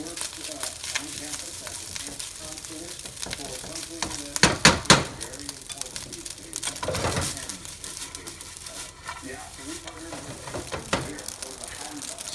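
Golden fried rice is stir-fried in a hot pan, giving a steady sizzle with repeated scraping and tossing, a few sharper clanks near the middle, and faint talk throughout.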